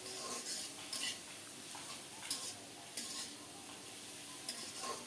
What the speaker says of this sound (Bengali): এখন শুধু নেড়ে চেড়ে একটু লালচে করে ভেজে নেব